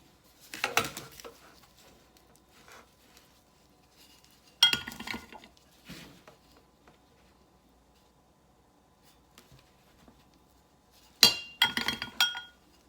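A metal baking pan clinks and clatters as ube buttermilk biscuits are set into it, three short bursts of rattling contact separated by quiet pauses.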